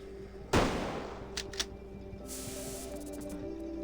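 Gunfire of specialized bullets in the video game Reverse 1999: one loud, sharp blast followed by a few smaller pops and a lingering hiss over a steady game background, with no talk.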